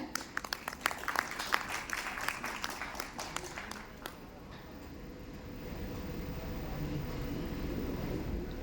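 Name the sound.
audience applause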